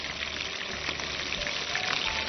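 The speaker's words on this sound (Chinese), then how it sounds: "我们就少放一点点油啊" A small amount of oil sizzles in a pan while mantou slices toast, giving a continuous close crackle with scattered pops and no voices.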